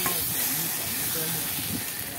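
Fried paneer is stirred into masala in a hot pan and sizzles with a dense, continuous close hiss that stays even and loud from start to finish.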